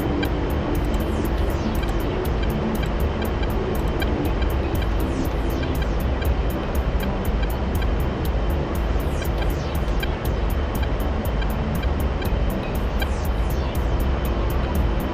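A military aircraft flies in to drop a bomb in a Syria combat video game, a loud, steady engine roar that fills the whole stretch without pause.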